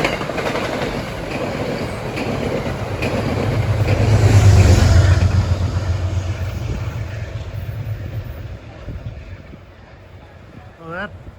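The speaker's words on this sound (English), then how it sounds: "that New York bound train is by at 3:52" A Metro North train passes on the tracks, a loud sustained rumble with clickety-clack that swells midway and then fades, with talk over it.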